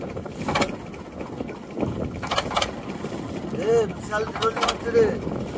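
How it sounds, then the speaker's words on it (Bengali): A small fishing boat rocks on choppy waves under blowing wind, with water slaps and creaks around it while voices talk over the scene. "শুধু নৌকোটা নড়ছে দেখো শুধু, তার সাথে হাওয়াটা কেমন চলছে তো সাউন্ড শুনে বুঝতে পারবে"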